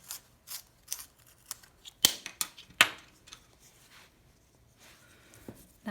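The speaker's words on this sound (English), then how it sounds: "Let me sharpen my pencil." Graphite pencil being turned in a small sharpener while sketching a parrot, giving a run of quiet scraping and clicking strokes with a few sharper snaps partway through, close by and with no talking.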